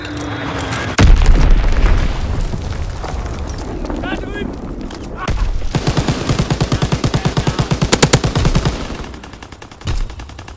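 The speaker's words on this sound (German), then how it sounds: "Feindliche Bombe im Anflug." An enemy bomb strikes in Call of Duty: WWII with a loud, deep boom, followed by a long stretch of rapid, rhythmic machine-gun fire and scattered blasts, with voices talking amid the battle noise.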